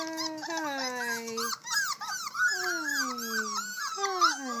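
Several young puppies whining together, close by: overlapping high, sliding whimpers and yelps in a continuous chorus with brief dips, no talk.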